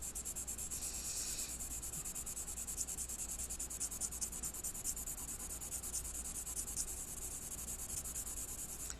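Charcoal pencil scratching and rubbing across paper, a steady close-up gritty drawing texture that continues without pause and with no voices.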